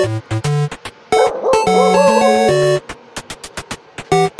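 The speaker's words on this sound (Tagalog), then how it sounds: "Aso po." Small dogs yip and bark in quick bursts, overlapping into a noisy, excited chorus with a few longer whining cries mixed in.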